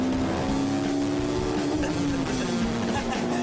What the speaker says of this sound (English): You don't need to change up until you hit the rev limiter in a car like this.